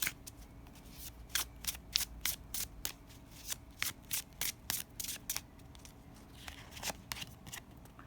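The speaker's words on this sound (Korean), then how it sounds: "먼저 타로 카드를 뽑아볼게요." Tarot cards being shuffled by hand, a rapid series of crisp riffling bursts in irregular rhythm, close and fairly quiet, with no talking over them.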